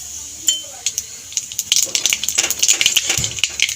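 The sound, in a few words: black cumin seeds sizzling in hot oil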